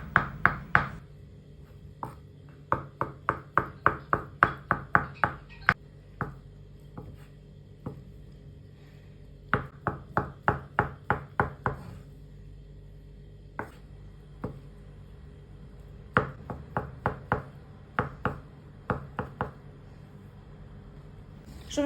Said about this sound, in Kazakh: Жұмыртқамызды турап болғаннан кейін